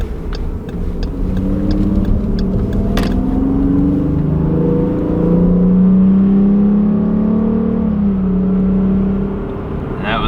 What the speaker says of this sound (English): It sounds like it's a VTEC engine.